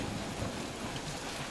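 Steady rain in Guardians of the Galaxy on PS5, a dense, even hiss of falling water with a low rumble beneath, continuous and fairly loud, no talking.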